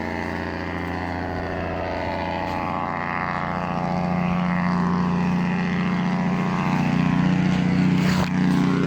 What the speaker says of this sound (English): I'm done with the trucks, with the noisy trucks.